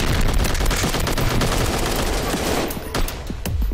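Rapid automatic gunfire from a Shrek character in a shooting video game, loud, dense bursts of shots rattling continuously with sharp cracks near the end.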